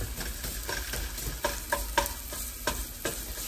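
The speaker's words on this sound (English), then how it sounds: "you don't want to burn them, you want to brown them. So you got to really keep a close eye on garlic when you're doing this" Sliced garlic sizzles steadily in hot oil in a pan while it is stirred, with several scraping stir strokes spaced across the steady frying hiss; close and moderately loud, no talking.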